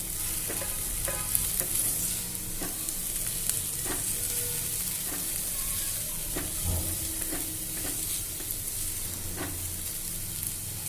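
Crushed garlic sautéing in a hot pan for a cluster bean bhaji, a continuous close sizzle with regular soft taps and scrapes of a spatula stirring, no voices.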